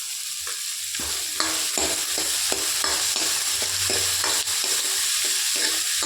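Three chopped onions sautéing and sizzling in a pan for an egg gravy, with steady frying hiss and repeated scraping clicks as a spoon stirs them at a regular pace, close by and without speech.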